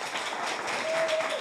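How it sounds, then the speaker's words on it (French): Audience applause for a singer at a Caribbean neighbourhood talent show, a steady dense wash of clapping at moderate level with no pauses. "applaudissez-la"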